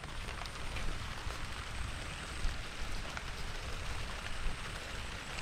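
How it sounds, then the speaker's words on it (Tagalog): Steady light rain patters on plants, a soft continuous hiss with scattered drops, no voices. "Kaunting ulan po naman dito, nagkakatubig na rin."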